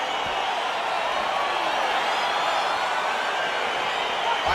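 Crowd noise fills an arena in the UFC 4 video game as a bout between Pantoja and Dodson gets underway: a steady, dense roar of cheering that holds at one level with no lulls throughout.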